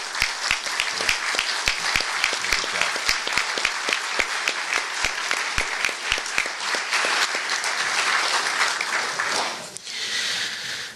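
Audience at a Cherokee Nation and Oklahoma signing ceremony applauding, a steady, full burst of many hands clapping close and loud for about ten seconds, then tapering off abruptly.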